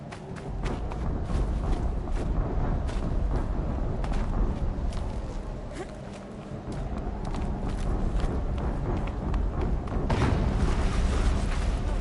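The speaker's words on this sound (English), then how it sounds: "An explosion." A muffled explosion in Horizon Zero Dawn gameplay, booming and rumbling under a dense, continuous layer of game noise, with the loudest surge near the end.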